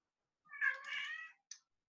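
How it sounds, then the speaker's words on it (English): A house cat gives one drawn-out meow followed by a short chirp-like call, close and clear against a silent background. "And yes, that is my cat. That's meowing down there somewhere."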